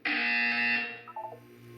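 A harsh, loud electronic buzzer in the video game Portal 2 sounds for about a second, then cuts off, followed by a short tonal blip.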